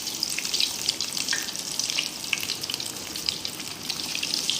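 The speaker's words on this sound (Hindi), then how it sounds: "ये देखिए हमें अपने कटलेट्स तलने के लिए मैंने ऑयल गरम कर लिया है" Potato cheese cutlets fry in hot oil on medium flame, a close, continuous bubbling sizzle with crackling bursts that swell and ease.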